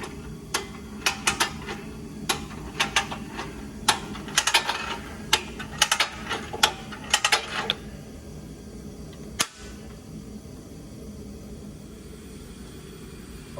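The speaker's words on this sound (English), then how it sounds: "we're going to set in this mold here and ratchet it shut and then have it locked" A Franklin portable workstation clamp ratchets shut on a bait mold, a rapid series of sharp, close mechanical clicks in uneven bursts for several seconds, then a lone click after a pause.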